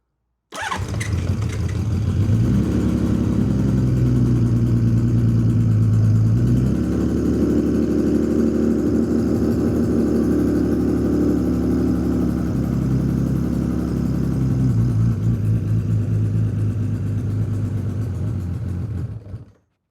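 Freshly rebuilt motorcycle engine fires up with the choke pulled out, catching within a second and settling into a loud, close, steady idle that rises and falls in pitch a couple of times before cutting off at the end; no talking.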